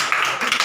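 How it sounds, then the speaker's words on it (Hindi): An audience at a church Bible study claps together, a dense, steady wash of applause that carries evenly from start to finish with no voices over it. "ताली बजाओ ना।"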